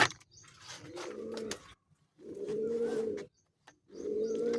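Pigeons cooing in a coop: three close, resonant cooing phrases, each lasting about a second or more, separated by short pauses of quiet.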